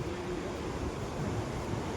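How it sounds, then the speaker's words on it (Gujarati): A river flowing below the Kalpeshwar temple in the mountains gives a steady, even rush of water, moderately faint and continuous, with no talking. "આની નદી જાય છે"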